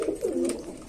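A pigeon at a pigeon farm coos in a short, soft, close call that rises and falls in under a second, with faint background noise around it.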